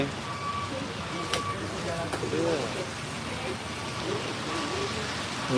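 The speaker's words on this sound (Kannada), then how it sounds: "ನಿನ್ನೆ ರಾತ್ರಿಯಿಂದ ಚಾಲು ಆಗಿತ್ತು ಮಳೆ" Steady heavy rain in Sindagi, Karnataka, hisses throughout, with a faint voice and a brief beeping tone somewhere in the background.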